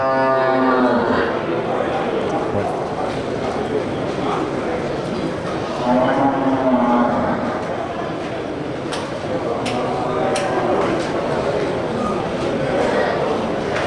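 Beef cattle and buffalo moo several times amid a busy livestock market, with people talking and occasional hoof clatter nearby.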